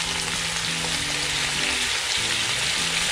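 Beef for bistek Tagalog, added to a pan that already has onions in it, frying with a loud, continuous crackling sizzle and faint tonal hums beneath.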